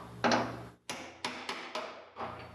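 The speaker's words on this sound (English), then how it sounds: "See if I can just knock it in now." A threaded plate is hammered into the rusted door of a 1972 Plymouth Cuda: one dull thud followed by four sharp, evenly spaced metallic knocks, close and fairly loud in a quiet workshop.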